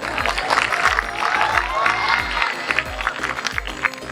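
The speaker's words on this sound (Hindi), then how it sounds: "एक बार हमारे सीनियर्स के लिए जोरदार तालियां" Students at a school farewell party applaud and cheer for their seniors, with clapping and crowd noise over thumping background music.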